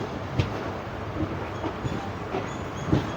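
The Seshadri Express rolls into Tirupati station with a low, continuous rumble broken by sparse clicks and thumps of the wheels over rail joints, heard from aboard at moderate volume.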